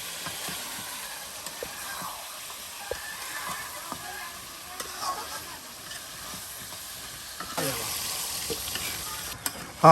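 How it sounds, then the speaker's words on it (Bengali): Beef curry sizzles and hisses in a pot as it is stirred and braised with spices and a little water, a steady soft frying sound close by with occasional scraping stirs. "আর এখন সুন্দর করে কষিয়ে নেওয়া হবে"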